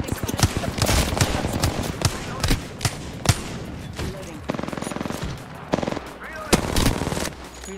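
Rapid automatic gunfire rings out in a team shooter game, bursts of machine-gun fire broken by short gaps and sharp single shots, loud and close throughout.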